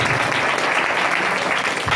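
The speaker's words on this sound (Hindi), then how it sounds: "मैं चाहता हूं एक बार अपने लिए जोरदार तालियां बजाएं" A congregation at a Christmas sermon breaks into loud, dense applause, many hands clapping together close by for a couple of seconds without pause.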